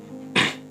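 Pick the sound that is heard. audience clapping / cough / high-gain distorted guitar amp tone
cough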